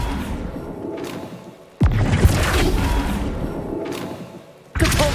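The Flipendo spell in Hogwarts Legacy, a sudden loud thump with a swooshing rush that lingers as a roaring wash, then a second abrupt hit near the end.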